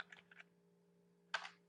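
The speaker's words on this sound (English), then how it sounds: "And then I'm going to write" Keys tapped on a computer keyboard while entering a web address: two quick clusters of soft clicks, a long pause, then a denser burst of keystrokes, close and quiet over a faint steady hum.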